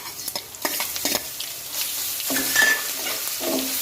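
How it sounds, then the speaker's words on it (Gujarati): Garlic roasting in a pan for Kathiyawadi masala khichdi, a loud close sizzle with quick stirring scrapes in bursts, then a smoother steady frying hiss, with no voices over it. "લસણને પણ સારી રીતના શેકી લઈએ"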